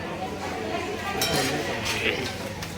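Steel utensils being stacked into a tower at a Kathiyawadi restaurant, a few light clinks and chinks close by over a murmur of background chatter.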